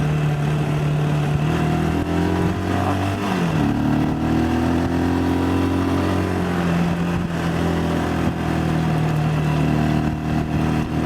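A Geon X-Road Light 250 motorcycle engine drones steadily up close, its pitch sliding up and down as it accelerates and shifts, with constant wind and road noise.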